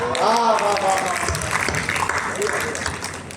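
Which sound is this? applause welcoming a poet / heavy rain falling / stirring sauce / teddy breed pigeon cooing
applause welcoming a poet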